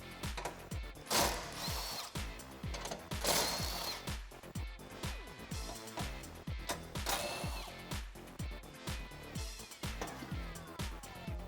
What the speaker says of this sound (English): I'm going to use a 19mm socket for the bottom one